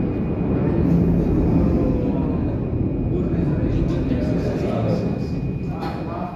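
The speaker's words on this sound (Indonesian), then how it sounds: "Itu suara pesawat kan?" A fixed-wing airplane passes overhead as a steady, loud low rumble lasting several seconds, with faint talk beneath it and a hint of coming rain in the outdoor air.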